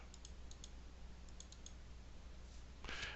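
A computer mouse gives a few faint, sparse clicks over steady background hiss, quiet and close, with a slightly louder rustle at the very end.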